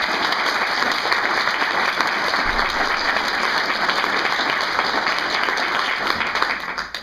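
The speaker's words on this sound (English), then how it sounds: "Please give these folks a massive round of applause." A large audience applauds at a tour event presentation, with dense, steady clapping that fills the whole stretch before tapering off at the very end.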